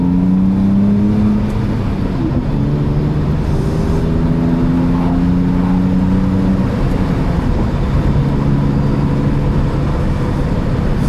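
A modified BMW E46 with a newly fitted angle kit on a drift test drive, its engine droning steadily and then climbing in pitch under repeated revving and acceleration, heard close from inside the car with no talking.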